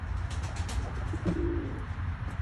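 Pigeons coo softly and repeatedly close by, with a low murmuring rhythm over steady background noise, no voices present.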